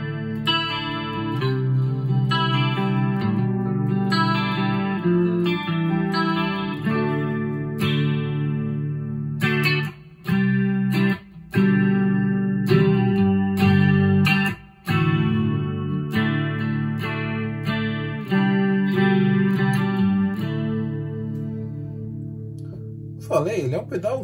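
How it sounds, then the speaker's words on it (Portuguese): An electric guitar played through a NUX CH-3 chorus pedal with the knobs at noon, a shimmering chorused tone carrying chords and single notes steadily, with brief pauses. "ele tem um som bonito de Chorus"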